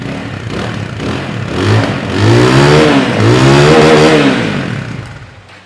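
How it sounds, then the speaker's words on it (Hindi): A 250cc racing-purpose motorcycle engine (2024 Hi-Speed Cyclone RA2 EFI) idles in neutral, then revs up twice with a throaty, rising exhaust note before settling back down, loud and close with no talking. "तो ये है कुछ इसकी एग्जॉस्ट साउंड"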